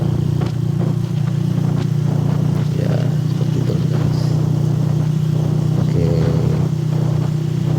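A Honda Scorpio 225 motorcycle cruising on a road, its engine droning steadily and loudly up close with wind rush and occasional rattles, no talking.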